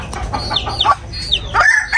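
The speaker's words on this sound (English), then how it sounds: "Con gà. Con gà. Chicken. Chicken." A chicken clucks in short, sharp bursts, joined by the rising strained call of a rooster crowing, close and loud with brief gaps between calls.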